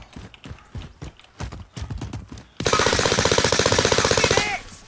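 Rapid automatic gunfire from a first-person shooter video game erupts in a dense, loud burst after a stretch of sharp, irregular single shots and thumps.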